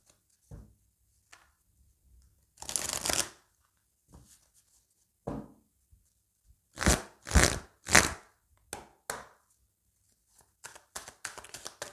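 Oracle cards are shuffled and cut in short, crisp riffling bursts separated by pauses, with quick flurries of card slaps toward the end, close and fairly quiet.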